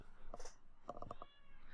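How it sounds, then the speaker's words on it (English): A house cat meows indoors, one short cry followed by a quick run of four or five clipped, chirping meows, faint and close, with a little background noise. "I hear a cat."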